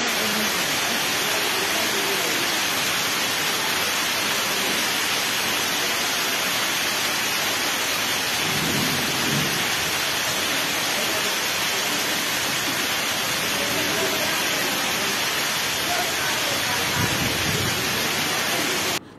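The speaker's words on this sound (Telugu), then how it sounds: "తెలుగు రాష్ట్రాల్లో వర్షాలు దంచి కొడుతున్నాయి." Heavy rain pours steadily during a storm over the Telugu states, a dense continuous hiss with low rumbles of thunder rolling in twice, near and loud throughout.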